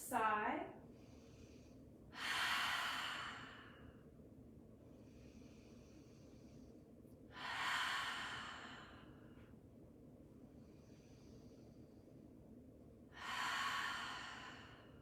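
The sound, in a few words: deep breaths with exhales during yoga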